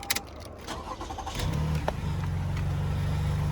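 A 2018 Toyota Kluger GX 4x2 engine starting: a few clicks and a short crank, then the engine catches and settles into a steady, close idle hum.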